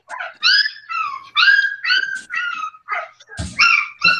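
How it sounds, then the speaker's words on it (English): A puppy whimpers and yips in a quick run of high, whiny cries, close and loud, with one sharper bark-like yelp near the end. "That puppy sounds like the flat earthers"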